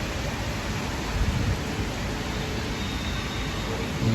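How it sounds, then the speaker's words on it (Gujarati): Constant rushing wash of heavy rain driven by wind, a dense, even roar with no pauses. "પવન સાથે વરસાદ છે"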